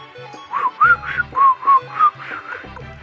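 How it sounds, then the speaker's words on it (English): A person whistles a short, bouncy tune of about six rising and falling notes, close and clear, with a low background thump under some notes and no talking. "That was my attempt to whistle."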